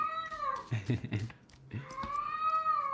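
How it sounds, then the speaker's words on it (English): A cat meows in drawn-out, wavering calls, one before and one after a brief pause filled with a few soft rustles, close and fairly clear. "It's so funny that my cat's coming out."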